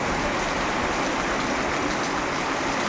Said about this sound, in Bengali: খুব ঘন চাপে বৃষ্টি আমাদের এখানে হচ্ছে।